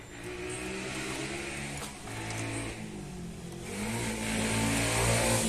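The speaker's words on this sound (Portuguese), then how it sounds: "ela vai dar uma pequena partidinha pesada de início, porque ela descarregou" A car engine with a weakly charged, recently drained battery cranks heavily and catches, running as a steady, loud mid-pitched engine hum with a slight rise in revs toward the end.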